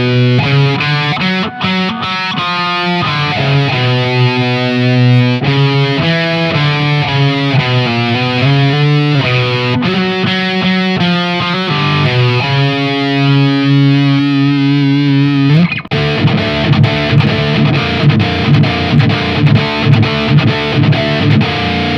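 An Aklot Lorien LP-style electric guitar plays metal riffs through heavy distortion. Loud, saturated chugging notes and held chords run alone for the whole stretch, then shift into faster palm-muted rhythm near the end.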